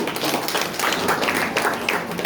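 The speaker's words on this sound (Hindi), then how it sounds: "अरे तालियां बजाकर स्वागत कर दो।" A crowd of villagers claps in welcome at an outdoor village gathering in Katwal during a by-election campaign visit, dense steady applause with a faint voice underneath.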